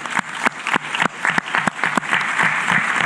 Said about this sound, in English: Can we have a round of applause for Claudia and her team?